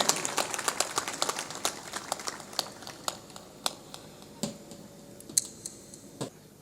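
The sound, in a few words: audience clapping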